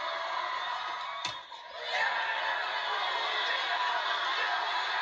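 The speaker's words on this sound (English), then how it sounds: "And you can hear the crowd cheering too." A crowd at a college softball game cheers after a home run, a steady roar of voices with whoops and shouts, slightly distant and broad, with a brief dip partway through.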